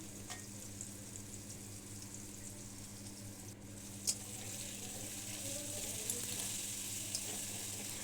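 Spices sauté in a pan for a meni fish curry with pea greens, a faint, low sizzle with a couple of brief stirring knocks and no talking.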